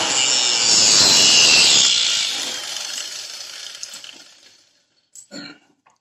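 A drill bit cuts into PVC pipe while making a quail call, giving a loud, steady grinding rasp that fades over several seconds, followed by a brief quiet and a couple of small knocks.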